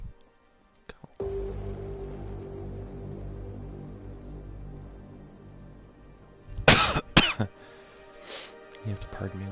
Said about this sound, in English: You have to pardon me with the coughing and the sniffling.